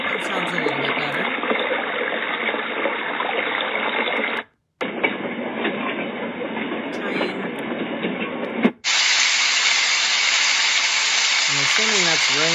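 Rain setting on a Heavtuen white noise machine plays as steady broadband hiss, briefly cut off midway, then a brighter, harsher noise takes over at the end, all alone at a constant loud level with no talk.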